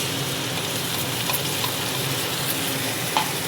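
Spice paste added to a pan and frying with a fish head for a hilsa and taro leaf dish, a steady crackling sizzle with a few stirring clicks, heard close.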